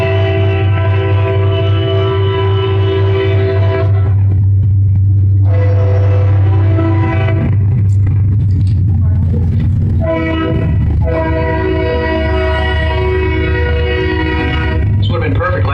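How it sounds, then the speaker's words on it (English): Loud, close train horn from a passing train in Sachse, blasting in long sustained chords that break off and resume, with the rumble of rail cars running steadily underneath throughout. "should I wait for this train to get by?"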